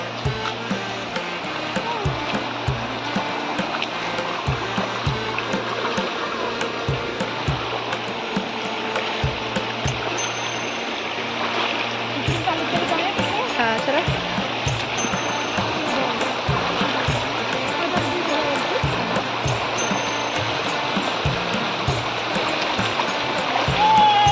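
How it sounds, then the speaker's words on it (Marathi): Continuous rushing of a village river in the Konkan where clothes are washed, a broad steady flow with splashing texture that swells slightly louder toward the end. "ही नदी आहे इथे आम्ही कपडे धुवायला यायचो"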